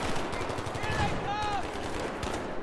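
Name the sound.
gunfire in Battlefield 3 video game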